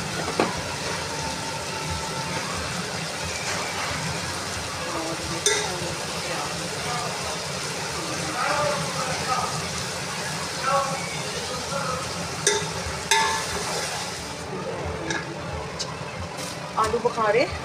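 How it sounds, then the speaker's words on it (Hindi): Beef with salt and ground black pepper sizzles in a pot for Hyderabadi yakhni pulao, a steady frying crackle with occasional scraping stirs and clinks. "फिर हम इसको थोड़ा सा भूनेंगे।"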